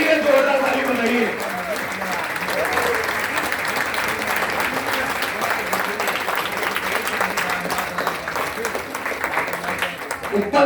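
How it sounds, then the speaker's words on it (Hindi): Sustained applause from an audience at a network marketing meeting in a hotel hall, steady and dense across the whole stretch, with some voices mixed in at the start. "इनके सम्मान के लिए जोरदार ताली बजाइए"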